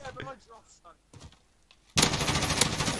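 Shooter video game gunfire while hip firing from prone: a sudden loud, dense burst of rapid automatic shots lasting about a second, coming in after several seconds of quiet talk between players.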